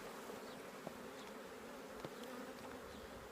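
Honey bees hum in a soft, constant swarm at an open hive during queen rearing, with a few faint knocks over the buzzing.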